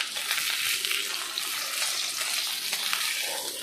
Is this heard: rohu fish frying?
yes